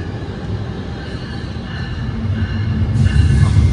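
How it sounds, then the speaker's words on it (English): Low, steady rail rumble that builds toward the end, like a train rolling past nearby amid general street noise, at Secaucus Station, New Jersey. "I can hear a train."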